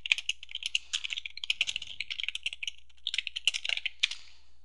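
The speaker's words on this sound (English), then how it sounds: "you're just going to type in the song that you want" Steady, quick typing on a computer keyboard, a run of close, light key clicks with short pauses, alone without any voice.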